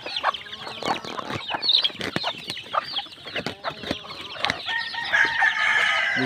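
Newly hatched chicks and hens cluck and peep at feeding time, with busy, overlapping calls close by and steady throughout.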